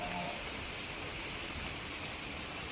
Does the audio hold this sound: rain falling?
yes